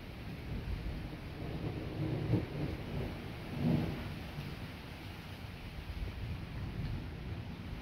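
Thunder from a violent summer thunderstorm with intense electrical activity, heard as two deep rumbling swells a second apart over steady wind and rain noise, fairly distant and low.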